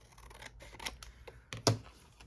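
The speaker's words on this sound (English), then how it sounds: "I'm going to cut off the edges here." Scissors snipping the edges off paper for a journal page, a few close, crisp cuts with the sharpest snip near the end, quiet otherwise and with no talking.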